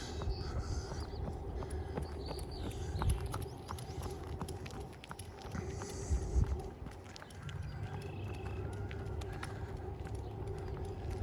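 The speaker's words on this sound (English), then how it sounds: "Someone's coming behind me. I hear footsteps." Footsteps of someone coming up from behind and passing on a walk along a creek path in Regina in May, steady rhythmic steps heard over outdoor ambience, fairly close, with no talking.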